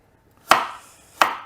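Two crisp knife chops through carrot on a cutting board, about 0.7 seconds apart, close and clear with nothing else heard.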